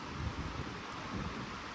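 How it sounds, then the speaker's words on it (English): Rain and wind sweep over a sailboat during a storm, a soft, steady wash of noise with low rumbling gusts, fairly faint and unbroken. "And now you can see the rain is now coming in this way."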